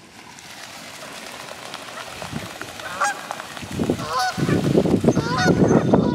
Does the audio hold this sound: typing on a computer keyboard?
no